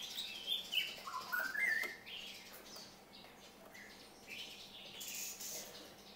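Bright chirps from a songbird in a Vietnamese bird-trading setting, several quick calls clustered early, then sparser tweets over a steady hiss of background noise.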